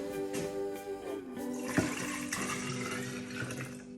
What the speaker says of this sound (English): I'm going to add maybe 1 or 2 more bowls of water here